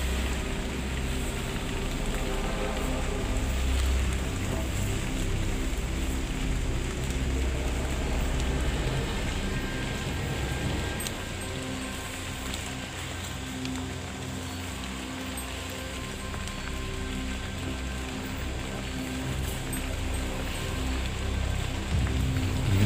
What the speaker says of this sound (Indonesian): Angin tiba-tiba kencang ya.